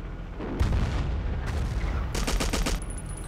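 Gunfire in the video game Battlefield 1942, a loud burst of booming shots followed by a rapid run of cracking rounds, close and dense, with no talk over it.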